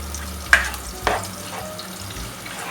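Noodles and minced meat get stir-fried in a pan, with two sharp scraping stirs and a low, steady sizzle underneath. No one speaks.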